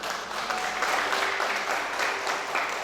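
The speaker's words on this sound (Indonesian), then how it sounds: "Yang percaya berikan tepuk tangan." Congregation applauding during a church worship service, a steady wash of many hands clapping together, evenly sustained for a few seconds at moderate level, heard alone without speech.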